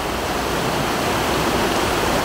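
Loud, steady roar of a raging glacial river at Glymur waterfall in Iceland, a dense broadband rush of churning water filling the whole stretch without pause or voices.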